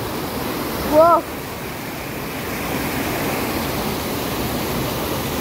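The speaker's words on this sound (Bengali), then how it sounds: "দেখো জলের কি আওয়াজ, স্রোতটা দেখো" A strong current of water rushes at Bamni Lake in Purulia in a loud, steady, broad roar that runs the whole time, with a brief voice calling out near the start.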